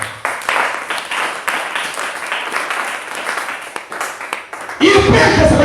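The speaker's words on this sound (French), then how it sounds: "On acclame le Seigneur" A congregation at a church service in Congo-Brazzaville applauds and acclaims the Lord, with loud sustained clapping and cheering voices that rise to a dense, energetic burst near the end.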